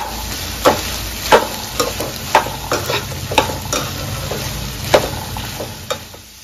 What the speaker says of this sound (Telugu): సాల్ట్ వేసుకొని బాగా కలుపుకోవాలి.